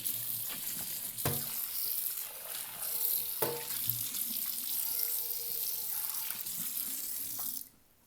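Running tap water and a soapy sponge scrubbing a well-used non-stick pan at a sink, a steady close wash of water with a few sharper clatters and splashes before the flow cuts off at the end.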